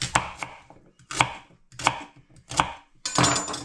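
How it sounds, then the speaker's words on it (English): A knife chops rhubarb into small chunks on a board, five distinct crisp cuts in an even rhythm, close and clear with no talking. "I'm just going to cut that down into nice smallish chunks"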